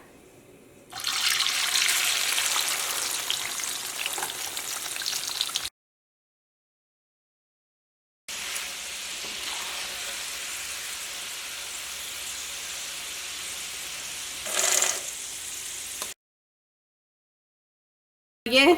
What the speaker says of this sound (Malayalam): അപ്പം ഇനി നമുക്ക് ബാക്കിയുള്ളതും ഇതേപോലെ തന്നെ വറുത്തെടുക്കാം.